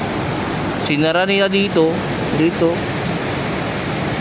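Water rushing through a tunnel built to carry a river, heard as a steady, loud broadband roar that fills the whole clip while someone talks briefly over it.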